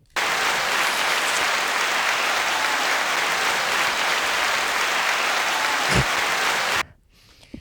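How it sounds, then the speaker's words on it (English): A studio crowd bursts into loud, sustained applause that holds steady for several seconds and then cuts off abruptly near the end. "Look, we got the round of applause"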